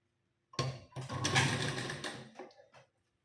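A sewing machine stitches the waist seam of a blouse in one steady burst of about two seconds, close and fairly loud, with a brief start and a short tail as it slows.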